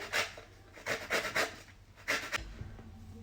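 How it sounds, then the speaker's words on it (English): Orange zest comes off on a hand grater in a few rasping strokes, close and fairly soft, repeated back and forth with short pauses between them. "I'm just going to use it to just grate the zest of the orange"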